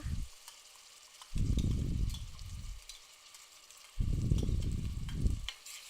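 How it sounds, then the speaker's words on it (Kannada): A paste of onion, garlic and ginger fries in a pan for a soya chunk curry, a faint constant sizzle broken by two loud bursts of low rumbling handling noise, with no talking. "ಹಾಕ್ಕೊಂಡು ಚೆನ್ನಾಗಿ ಫ್ರೈ ಮಾಡೋಣ."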